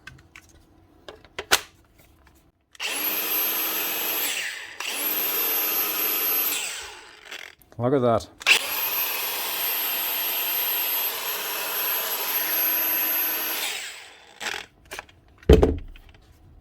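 A repaired Milwaukee 4.5-inch brushless cordless grinder fitted with a new bearing spins up in long, loud, steady whining runs, with short stops and a clunk between them; someone briefly speaks.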